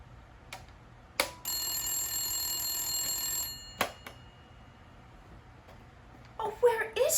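Old-fashioned telephone bell ringing in a continuous burst of a little over two seconds while a call to the operator goes unanswered, with short clicks before and after and brief sounds at the end.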